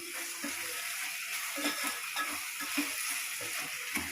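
Raw mango pieces being stirred with jaggery in a pan, a soft steady sizzle with faint scraping and stirring taps throughout, no voices.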